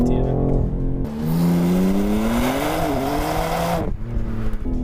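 A BMW M4 Competition G82 heard from outside, its engine and exhaust droning loudly and rising in pitch as it accelerates, then settling back with a rougher burble near the end.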